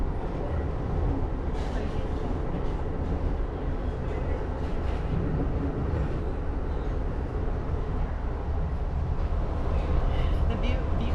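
Steady low rumble and rolling noise of a passenger train heard from inside a carriage near the dining car, constant throughout with people chatting over it.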